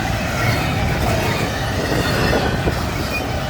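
An intermodal freight train rolls through the Winns Crossing Road crossing in Chapel Hill, Tennessee, a loud steady rumble of wheels and cars with clattering rail noise and faint squeal throughout, close and continuous.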